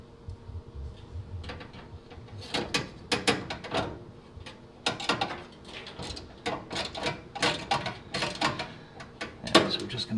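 Screws driven into the sheet metal of a GE gas dryer during a propane conversion, a close series of sharp ratcheting clicks and metallic scrapes coming in irregular bursts, with no talking.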